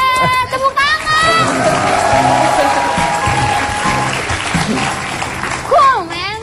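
Studio audience applause on an Indonesian television talk show, a dense wash of clapping running under voices and music-like tones, with people talking over it throughout.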